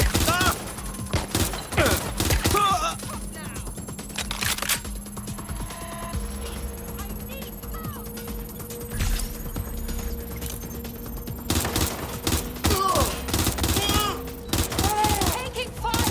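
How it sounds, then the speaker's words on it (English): Heavy gunfire from a Watch Dogs: Legion firefight, with repeated loud bursts and volleys up close over a steady game soundscape, some shots landing in quick rapid-fire clusters. "Taking fire! Changing to cover!"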